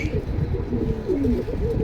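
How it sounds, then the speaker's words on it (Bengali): Red-patti military pigeons coo close by at a pigeon sale, a continuous overlapping low throaty cooing from several birds that fills the short stretch. "অনেক সুন্দর কবুতর"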